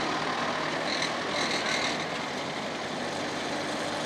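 Tractor engine running steadily as it pulls a homemade lavender harvesting machine in a field, a continuous broadband mechanical rumble with clattering, close and fairly loud throughout with no pauses.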